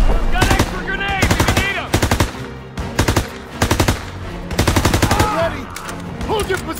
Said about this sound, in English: Come on, they need cover fire! Suppressive fire! Keep firing!